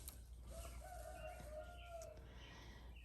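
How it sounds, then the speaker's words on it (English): A rooster in a garage crows once at a distance, its drawn-out call faint against steady low background noise. "that's one of the roosters in the garage"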